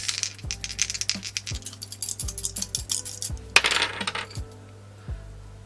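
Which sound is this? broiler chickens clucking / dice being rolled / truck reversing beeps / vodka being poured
dice being rolled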